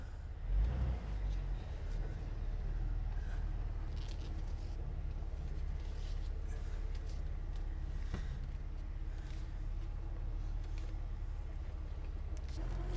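A worn Jeep Wrangler with possible four-wheel-drive and power-steering faults rolls along on a test drive, a low steady engine and road rumble heard from inside, with a few clicks and knocks over it.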